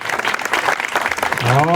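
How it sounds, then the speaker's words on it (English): A small ceremony crowd at G.A.R. Memorial Hall claps briefly under a speaking voice, the scattered applause ending as a sustained ringing tone rises. "Big round of applause."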